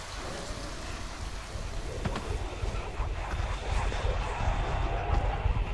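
Steady rain pattering on surfaces in Ghostwire: Tokyo, a dense continuous hiss with occasional louder drops, growing slightly heavier toward the end.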